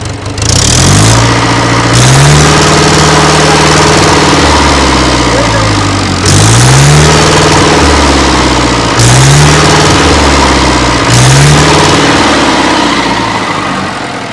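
A Mahindra 475 tractor engine roars loudly, revving up and down several times in surges, with a heavy rumbling idle between revs.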